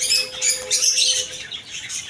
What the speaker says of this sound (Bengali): এই হচ্ছে ককাতুল পাখি অ্যালবিনো ককাতুল